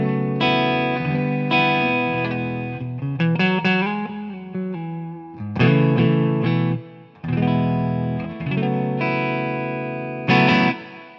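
An electric guitar on the neck humbucker plays a clean tone through a Fuchs Overdrive Supreme amp plugin with light plate reverb and slapback. Loud, sustained chords and ringing notes continue without pause, with no talking.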